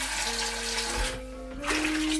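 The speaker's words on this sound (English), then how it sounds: "Hot water from the kettle into the pan." Hot water pours from a kettle into a pan in a kitchen, a steady splashing stream with a rising tone as the pan fills, continuing throughout without talk.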